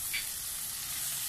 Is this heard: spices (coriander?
yes